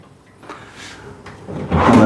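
Drawers in a hotel room at Courtyard Phuket Town slide and knock shut: a few light wooden thumps and scrapes, then a louder, nearer slide and bump at the end.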